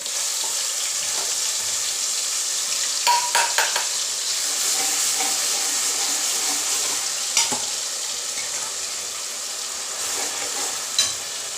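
Cumin and pounded spice masala roast and sizzle in a hot pan, a steady bright frying hiss with occasional scraping stirs of a spoon, close and continuous, no voices.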